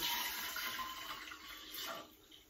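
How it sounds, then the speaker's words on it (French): Whole milk is poured in a steady liquid stream into a container while preparing a Catalan flan custard, soft and close, fading slightly toward the end, with no talking. "Deuxième étape, verser le lait."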